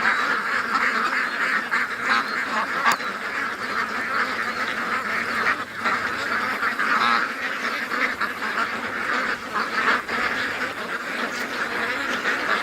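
Agitated ducks and geese quack and honk continuously at close range, a dense overlapping clamor with occasional louder calls standing out, no talking.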